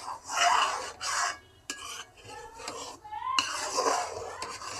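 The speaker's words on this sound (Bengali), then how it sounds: "এভাবে নাড়তে নাড়তে একদম ঝরঝরা হয়ে যাবে" Halwa being stirred in a pan: a spoon scrapes and rubs against the metal in uneven bursts, close and fairly loud, with short pauses between strokes.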